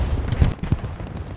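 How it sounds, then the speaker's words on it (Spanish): Explosions in the WWII shooter Hell Let Loose: a few heavy, booming blasts in quick succession, loud and low, with thumping impacts fading into rumble. "Las explosiones han cambiado."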